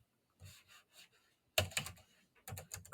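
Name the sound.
typing on a computer keyboard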